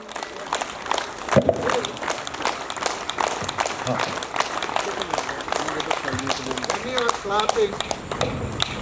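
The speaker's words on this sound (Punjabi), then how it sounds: "ਆਪਣੇ ਲਈ ਇੱਕ ਵਾਰੀ ਤੁਸੀਂ ਜ਼ੋਰਦਾਰ ਤਾੜੀਆਂ ਮਾਰੋ" A live audience claps loudly in a sustained burst to honour the women present, dense hand-clapping running steadily for about nine seconds with voices mixed into the crowd noise.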